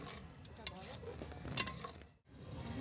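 Strained onion mixture left over from onion juice being stirred into mutton cooking down with yogurt, giving soft sizzling and scraping with a couple of sharp utensil clicks, then a brief near-silence before the stirring resumes.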